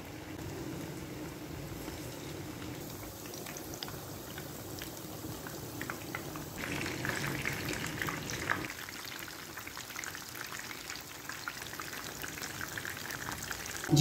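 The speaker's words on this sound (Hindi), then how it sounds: "मीडियम आग पे इसको 6 से 8 मिनट हम फ्राई करेंगे।" Chicken 65 pieces deep-frying in oil over medium heat, a steady soft bubbling and crackling hiss that runs throughout with no talk.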